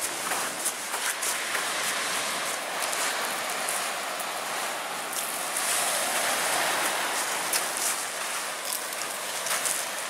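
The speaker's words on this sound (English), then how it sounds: "I can hear the waves crashing." Waves wash against the rocky Lake Superior shoreline in a continuous broadband roar, with surges and crashes rising and falling fairly close by.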